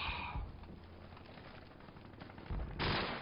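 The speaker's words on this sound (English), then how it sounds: "that the mounted MG?" A mounted machine gun fires in a first-person shooter video game, a steady loud roar of rapid automatic bursts that swells again near the end.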